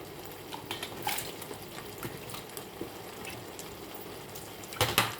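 Vegetables and potatoes being washed in water, with soft sloshing, dripping and splashing close by, fairly quiet, ending in a brief louder splash.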